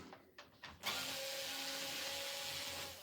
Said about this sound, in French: nous allons prendre notre tournevis cruciforme et retirer la partie en aluminium